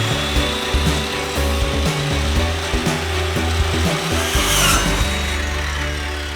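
A saw cuts through an old wooden headboard footboard with steady, close rasping strokes and gritty scraping over a constant low background hum.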